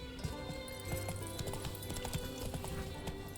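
Horse hooves clip-clop in rapid, steady rhythm in the video game The Witcher 3, quiet and close, repeating across the whole stretch with no talk over them.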